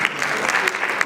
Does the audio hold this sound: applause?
yes